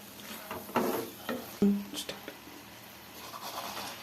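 Fenugreek rice is stirred and mixed with salt in a pan, giving a few soft, irregular scrapes up close; a person speaks between the strokes.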